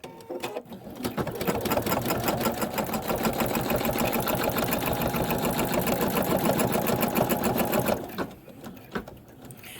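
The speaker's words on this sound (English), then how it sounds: "Now we're going to the satin stitch." An embroidery machine sewing a satin-stitch border on an in-the-hoop snow globe ornament runs in a fast, even rhythmic chatter for about seven seconds, close and steady, then stops.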